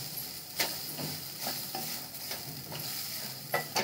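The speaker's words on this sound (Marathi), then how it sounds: "ओलं नारळ टाकून घेते बारीक केलेलं। आता हे छान परतून घेते।" Grated fresh coconut being sautéed and dried in a pan over low to medium flame for coconut karanji, with a soft continuous sizzle and repeated stirring scrapes throughout.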